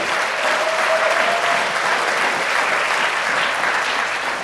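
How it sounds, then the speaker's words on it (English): An audience applauding steadily, a dense wash of clapping hands holding at a constant level throughout. "Let's give those young men another round of applause"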